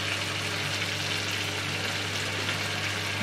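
Chicken with barbecue sauce and Maggi seasoning cubes is mixed in a hot pan, giving a steady, close, even sizzle with no talking.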